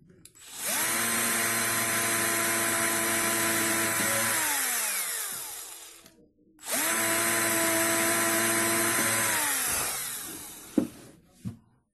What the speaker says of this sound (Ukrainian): а далі свердлимо і так само робимо